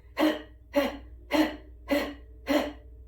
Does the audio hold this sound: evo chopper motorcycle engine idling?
no